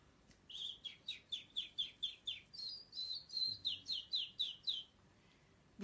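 Nightingale-style birdsong: a run of about fifteen rapid, rhythmic chirped phrases, clear and fairly close, heard alone with no talk.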